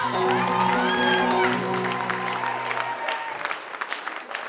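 A church congregation breaks into loud applause that swells at once over a sustained organ-like keyboard chord, then the clapping thins into scattered claps as the music fades out.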